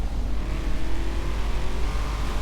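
A Nissan GTR engine in the racing game Forza Horizon 4 drones steadily as the car accelerates, a low continuous motor hum without speech.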